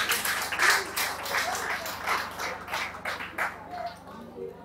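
Audience applause at a gathering, a moderately distant, steady patter of clapping lasting several seconds that thins toward the end, with voices faintly mixed in.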